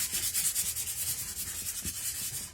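Light sanding of ivory-painted pumpkin craft pieces gives a steady series of soft, close rubbing strokes in an even back-and-forth rhythm, with no talking.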